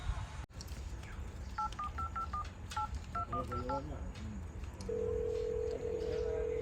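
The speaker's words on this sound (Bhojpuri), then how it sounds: "आकाशवा के फोन कर।" Telephone keypad dialing tones, a quick series of short DTMF beeps in an irregular rhythm under a noisy background with a little chatter, followed by a steady ringback or dial tone.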